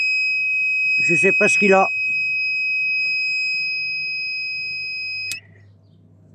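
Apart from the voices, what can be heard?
alarm beeping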